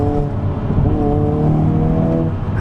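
2022 Hyundai Kona N engine and exhaust, a loud close throaty drone with shifting revs, steady and continuous with no talk.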